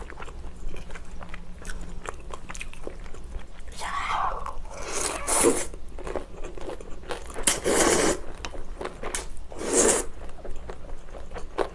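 Pan-fried pollock roe dumplings are bitten and chewed close up, with several crisp crunchy bursts around the middle and end over a quiet background.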